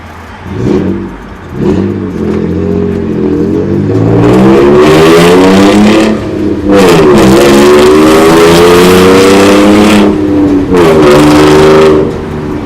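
A 2015 Toyota Tacoma X-Runner pickup truck drives past loudly, its engine revving and rising in pitch through gear changes, steady and close for the whole stretch with no talk.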